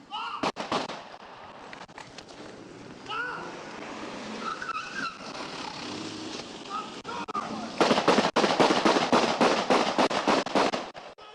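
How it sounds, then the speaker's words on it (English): A police officer fires 13 rounds at a minivan backing out of a garage, heard as sharp, cracking shots. A few scattered reports come first, then a dense rapid volley near the end. Voices and engine noise run underneath. "Officer Clayton Jennison shoots 13 rounds at a minivan backing out of a garage."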